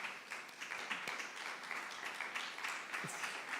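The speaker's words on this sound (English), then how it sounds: "Got some applause." Steady audience applause at a Mozilla Festival 2025 panel talk, a dense continuous patter of many hands clapping at moderate distance, sustained evenly throughout with no voices on top.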